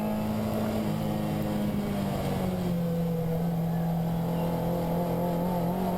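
A race car accelerates through a corner on the Nürburgring, a loud steady engine drone with a sustained tone rising slightly, heard close from inside the car with no talk.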